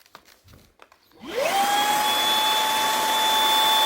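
A Samsung Jet cordless vacuum cleaner switches on after a moment of quiet and ramps up to a steady, loud whine with a high tonal hum that holds without talk.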